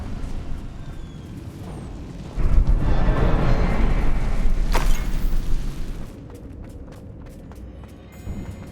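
A Confringo fire spell in Hogwarts Legacy bursts into a loud, deep rumbling explosion with a sharp crack partway through, then fades into low debris rumble and scattered small clatters.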